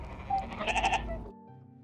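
Woolly the sheep in the video game Amanda the Adventurer bleats in a clear, close series of wavering bleats that stop abruptly, followed by a low lingering tone.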